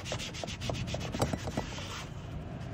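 A Scrub Ninja with interior cleaner scrubs plastic car interior trim in steady, rhythmic, close rubbing strokes that continue for about two seconds, then ease off into a softer hiss.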